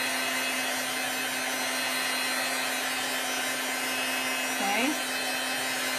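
A hair dryer blows steadily on chalk paste as it dries, a constant close whooshing hum for the whole stretch. A voice briefly says a word near the end.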